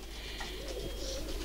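Pigeons coo softly and continuously, a low, steady murmur set against a broad background hiss, with no voices present.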